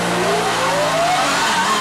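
Race cars, including a BMW and a Honda Civic, rev and pull away at a circuit start, a loud steady engine roar with rising pitch as they accelerate.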